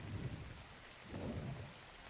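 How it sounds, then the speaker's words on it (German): Rain with a low rumble of thunder in the desert survival game ARK Scorched Earth, a steady hiss of falling rain with two soft, distant swells of thunder underneath. "Hey, Regen."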